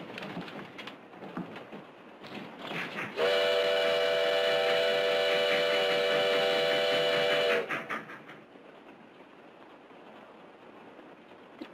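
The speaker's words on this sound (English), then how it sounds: "The train goes so fast." A steam whistle on a moving train sounds one long, loud, steady blast lasting about four seconds, with the rumble of the moving train underneath before and after.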